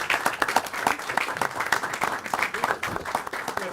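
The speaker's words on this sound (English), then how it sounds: "I just want to applaud." Applause from a city council meeting audience for Public Works staff, moderate clapping from a smallish group in a room, steady and fairly close, with some murmured voices underneath.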